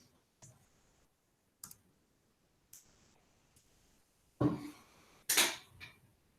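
Calculator keys pressed while entering a log base 6 calculation, a few sparse soft clicks followed by two louder taps near the end, close and isolated with no talking.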